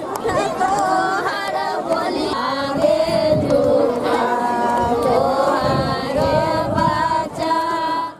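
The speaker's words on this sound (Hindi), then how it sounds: "मुंगेर में भी गंगा घाटों पर छठ व्रतियों और श्रद्धालुओं की भारी भीड़ उमड़ी दिखी।" A dense crowd of Chhath festival devotees gathered at a Ganga riverside ghat in Bihar, many voices chattering and singing together close by in a continuous, loud, overlapping wash.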